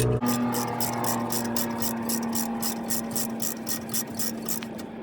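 Rapid repeated clicking of a ratchet snugging rear brake caliper bolts on a Pontiac Solstice, a close, fast even ticking that runs throughout over a steady background hum.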